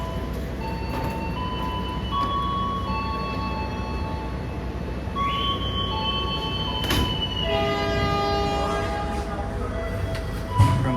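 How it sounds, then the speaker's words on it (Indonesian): KA Logawa economy passenger train departing Rogo Jampi station in Banyuwangi, heard from inside the carriage as a steady rumbling roll with squealing wheel tones and a brief horn note, continuous and moderately loud. "Berangkat kembali dari stasiun Rogo Jampi"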